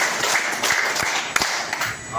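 Group of people clapping in unison during a counted clapping exercise at a teachers' coaching session, rhythmic bursts of hand claps in quick groups, fairly loud and close, with voices mixed in.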